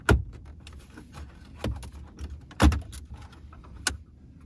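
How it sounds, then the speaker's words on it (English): Plastic trim clicks and knocks as a Toyota Tacoma's climate control panel is pried and pulled back by hand, a few sharp snaps spaced apart over quiet, no voices. "We're gonna pull out this climate control panel right here."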